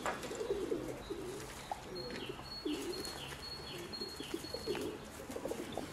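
Young pigeons coo softly in a loft during morning care, with low repeated coos and faint chirps over a quiet background.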